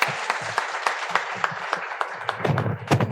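Applause at a university college anniversary celebration, a lively rhythmic round of clapping from an audience that grows denser and louder toward the end.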